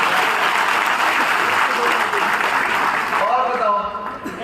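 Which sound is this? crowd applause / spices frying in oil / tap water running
crowd applause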